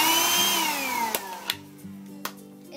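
A Dirt Devil handheld vacuum cleaner whining as its motor spins down and shuts off, followed by a few sharp clicks and knocks close by.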